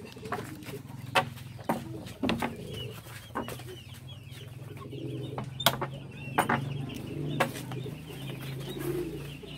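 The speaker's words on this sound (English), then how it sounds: "lots of young chickens" A flock of young chickens clucks and coos outdoors, with soft, scattered calls throughout and several sharper, louder peeps and clucks popping out above a low background murmur.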